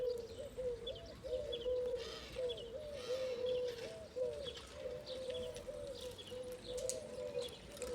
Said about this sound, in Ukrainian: Ой, Боже, тут, мабуть, усі голуби живуть.